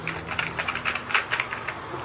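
Keys on a Sinclair ZX Spectrum+ keyboard are tapped in a quick, irregular run of close, crisp clicks, with no talking.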